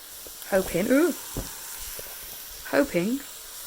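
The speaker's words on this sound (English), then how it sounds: "So I'm doing myself a mini fry up, focusing on the speed food to see if that helps." A small fry-up of speed foods cooking in a pan gives off a soft, steady sizzling hiss, while a voice talks over it in short bursts.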